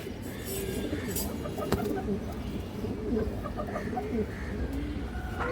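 Several sabji pigeons coo in overlapping low, bubbling phrases close by, continuous across the stretch, with brief sharper clicks and chirps among them in a busy loft-like setting.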